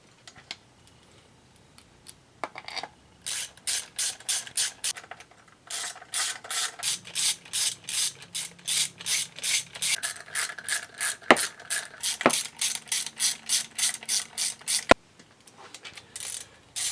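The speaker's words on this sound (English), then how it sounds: "Grab myself a Allen head socket and we'll run all those down." A ratchet with an Allen head socket runs down the clutch cover bolts on a 1975 Suzuki GT750. Repeated bursts of quick, close, crisp clicking are broken by short pauses between bolts.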